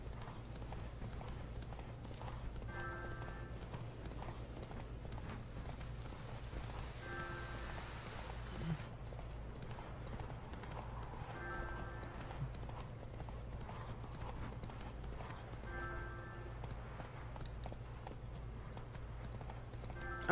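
Steady rhythmic clip-clop of horse hooves at a canter, with a faint low hum and soft ambient tones behind, no talking.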